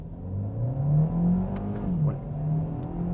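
A 2017 Hyundai i30 hatchback with a dual clutch gearbox pulls away at full throttle from inside the cabin, its engine note a steady, rising drone that dips briefly at a quick gear change before climbing again.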